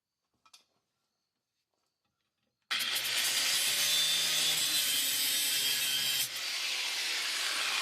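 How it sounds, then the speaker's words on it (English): An angle grinder cuts through cab bolts on a 1986 Chevy Blazer K5: after a faint tap and silence, a loud, continuous grinding whine starts abruptly and runs steadily, easing slightly near the end. "Well, we can get the grinder in there."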